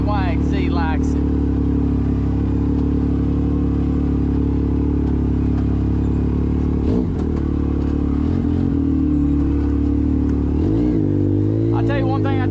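A Yamaha YXZ1000R side-by-side drives off-road, its engine a loud steady drone with a few shifts and revs, close and constant throughout.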